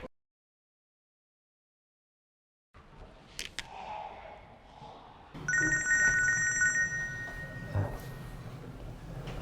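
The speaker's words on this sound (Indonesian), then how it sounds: "Pak, saya izin angkat telepon sebentar." A telephone rings in an indoor drama scene, a bright electronic ring that starts after a few seconds of silence and some quiet room noise, then sounds steadily for about a second and a half over a low background.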